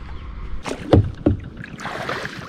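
Kayak paddles dip and pull through the water of Mohamaya Lake, two or three distinct close strokes with splashes, followed by a soft wash of rippling water, no voices.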